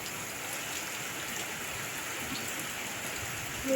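Steady rain pours outdoors onto an open-air cooking spot, a dense, even hiss that stays unbroken and fairly close throughout, with no voices.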